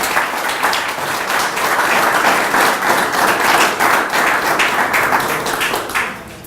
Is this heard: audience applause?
yes